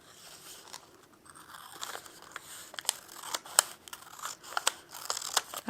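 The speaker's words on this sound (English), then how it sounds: "I'm going to keep mine folded to cut it right through the middle" Scissors snip through a folded origami paper square, giving a run of crisp, close cutting crunches that grow denser and louder toward the end, with no talking.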